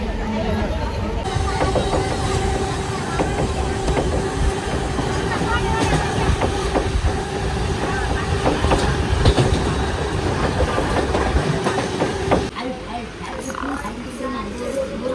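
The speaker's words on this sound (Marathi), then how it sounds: "तर बघू, ट्रेनमध्ये बसलो आहे आम्ही" Steady rumble and rattle inside a moving Mumbai commuter train carriage, with rhythmic clacking of wheels on track and voices murmuring in the background.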